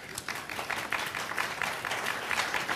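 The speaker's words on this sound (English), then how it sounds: "he definitely deserves your applause" An audience gives a round of applause, a steady patter of many hands clapping at moderate distance, with faint pulsing swells across nearly three seconds.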